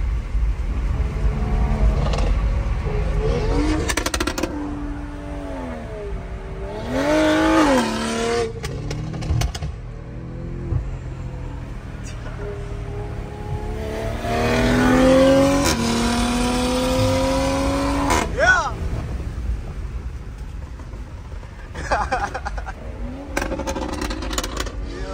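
A 2022 BMW M5 Competition accelerates hard from inside the cabin, engine note sweeping up through several gears in two strong runs with a loud, rising roar and brief shifts between.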